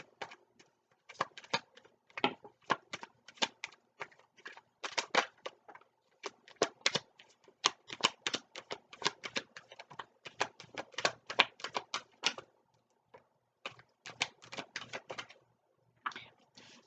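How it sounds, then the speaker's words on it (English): Rapid papery riffling and soft clicking bursts repeat over and over, like a deck of cards being shuffled up close, with brief pauses between. "Even though I have shuffled those, and I am shuffling as we look for the jumpers"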